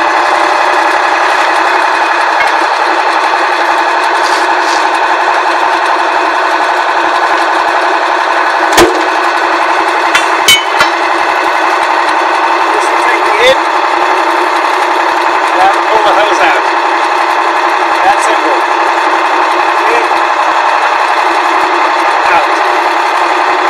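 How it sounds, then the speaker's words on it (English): A US Jetting 4018 sewer jetting unit's engine runs with a constant loud mechanical drone, punctuated by a few sharp clacks and knocks, close by and without talk over it. "Start the engine."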